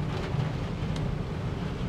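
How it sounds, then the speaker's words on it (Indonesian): Rain drums on the thin, barely insulated roof of a 2020 Suzuki Carry pickup, a steady close dense patter filling the space without pause. "air hujan yang jatuh mengenai atap itu seolah tidak ada peredam sama sekali."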